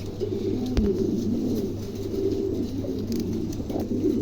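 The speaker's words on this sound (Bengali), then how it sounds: "খুবই চমৎকার এক জোড়া কবুতার রানিং কবুতার" A pair of running pigeons, a large-sized bird among them, cooing in low, throaty repeated phrases, close and fairly steady over a low hum, with a short knock partway through.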